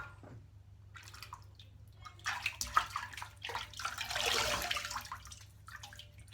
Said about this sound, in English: I'll just rinse off.